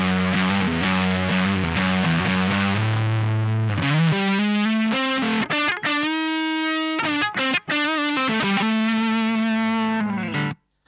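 Electric guitar driven through a Menatone The King overdrive pedal with its low EQ turned all the way up, thick bass-heavy distorted chords and riffs, loud and close, ringing out with a few brief gaps, no speech.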